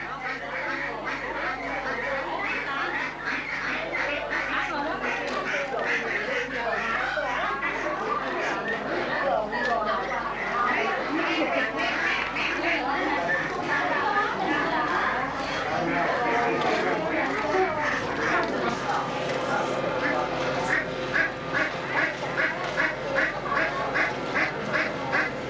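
Ducks quacking alongside chickens at a busy Vietnamese market, with continuous crowd chatter and voices throughout and a rapid run of quacks near the end.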